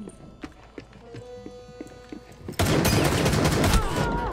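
A few sharp clicks and taps give way to a sudden, loud burst of rapid gunfire that continues in a dense, crackling barrage in Rainbow Six on PS5.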